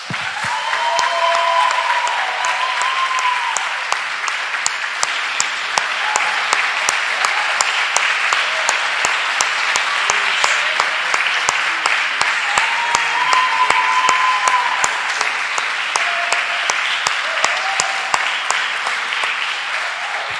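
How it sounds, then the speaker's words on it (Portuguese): A church congregation applauds during a worship service, a loud sustained wall of clapping lasting about twenty seconds with individual sharp claps standing out, and brief voices and cheers rising over it at moments. "Mas agora nós vamos aplaudir o Senhor."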